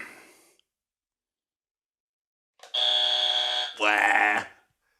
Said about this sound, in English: I just want to use the buzzer, though, when I think of something